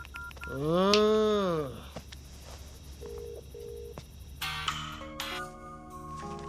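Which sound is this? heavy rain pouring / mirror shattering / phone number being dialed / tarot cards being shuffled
phone number being dialed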